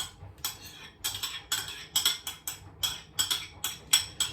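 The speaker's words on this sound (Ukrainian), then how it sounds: "Два жовтка і починаю все це ложкою перемішувати." Rapid, regular scraping and clacking of a spoon mixing egg yolks into dough in a bowl, close and fairly quiet, with no talking.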